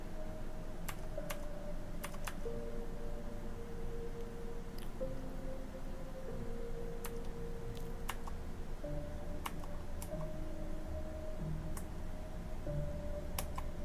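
Keys clack quietly on a computer keyboard with scattered single presses and short bursts at uneven intervals over a faint steady hum, while the F8 key sticks.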